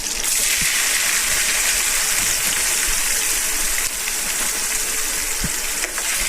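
Onions fry in a pan on an electric stove, a steady loud hiss of sizzling oil that runs without a break, with a few faint knocks underneath and no voices.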